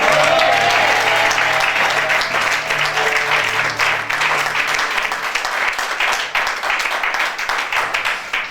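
A church congregation at a Sunday service applauds loudly and continuously. Dense clapping from many hands fills the room, with a faint murmur of voices underneath.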